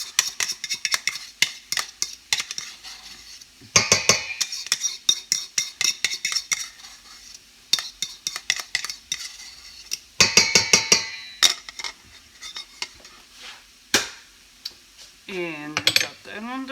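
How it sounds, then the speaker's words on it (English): Pumpkin dumpling dough with flax egg is mixed in a bowl, long stretches of rapid rhythmic clinking and scraping in repeated bursts, close and fairly loud, with a brief voice near the end. "And just mix it a little bit with your washed hands."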